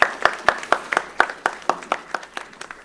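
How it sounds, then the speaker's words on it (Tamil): Scattered clapping from an audience at a Bharatanatyam arangetram ceremony, about a dozen distinct claps at a fairly even pace, close and moderately loud, with no talk over it. "ஒரு முறை கைதட்டுங்க"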